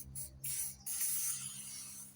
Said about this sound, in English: so I think I'm just going to spray a bit of that